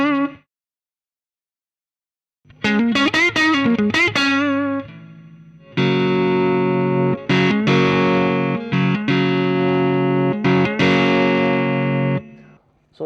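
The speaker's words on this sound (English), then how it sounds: "Now let's switch back to the clean sound and let's play with the EQ knobs." Electric guitar through a Peavey Classic 20 amp on its clean channel with the middle knob turned all the way up: a short note, a pause, a quick run of picked notes, then repeated ringing strummed chords, close and loud.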